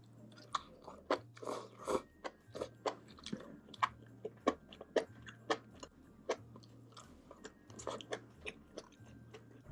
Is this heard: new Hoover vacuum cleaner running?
no